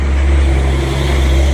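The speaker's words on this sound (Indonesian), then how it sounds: "Ini ada bus" A Yoanda Prima bus pulls into the agency at KM 11 with a loud, steady low engine drone and hum. It holds constant and close throughout, with no speech.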